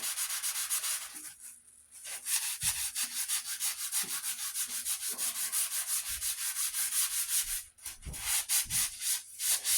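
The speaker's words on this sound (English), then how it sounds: "Find that fine grit sandpaper." Fine-grit sandpaper sponge rubbing steadily back and forth along a wooden racing axe handle, a close, continuous scratchy rasp with a brief lull partway through and no talk.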